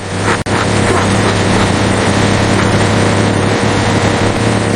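A large airplane in a cartoon with a troubled, failing engine gives off a loud, steady low droning rumble that runs without a break, with one brief sharp dropout early on.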